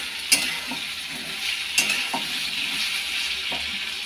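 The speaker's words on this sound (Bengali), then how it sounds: "এপাশে পেঁপে আলু ভাজা হচ্ছে।" Papaya and potato pieces fry in a pan with turmeric and salt. A steady soft sizzle runs throughout, broken by a few sharp scraping stirs of a spatula.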